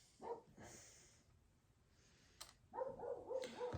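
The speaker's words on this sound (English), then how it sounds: "Y'all hear that dog out there carrying on?" A dog barks and carries on outdoors at some distance, a short yelp early on followed by a burst of several quick barks, faint and heard alone.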